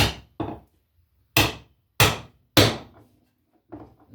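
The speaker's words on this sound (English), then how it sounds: "Take my trusty hammer." A hammer drives a wooden chair part into place with five sharp, separate blows spaced roughly half a second apart, each ringing briefly before a quiet gap, followed by a softer knock.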